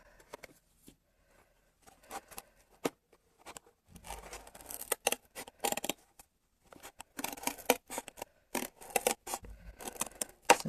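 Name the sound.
scissors cutting a bigger hole in cardboard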